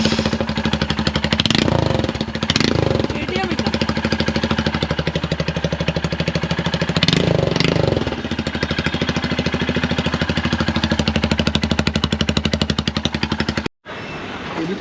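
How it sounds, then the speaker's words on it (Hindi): A Royal Enfield Himalayan BS6 motorcycle engine runs with no silencer fitted, a loud, rapid, raw mechanical thumping and clatter close up, briefly revved a couple of times, then cutting off abruptly near the end before restarting. "अभी बिना साइलेंसर के एक बार चालू करो।"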